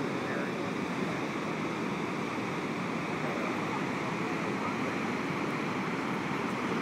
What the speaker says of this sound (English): Here we are, Niagara Falls, man. There's American Falls, Horseshoe Falls.